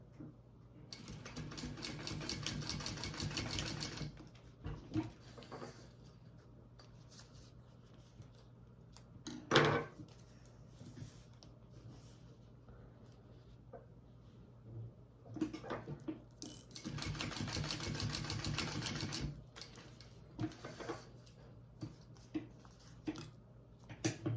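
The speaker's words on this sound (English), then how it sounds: "I am just going to baste that on to my contrast gusset pieces here." A home sewing machine bastes fabric onto contrast gusset pieces, whirring in two sustained bursts separated by quiet handling clicks and fabric rustles.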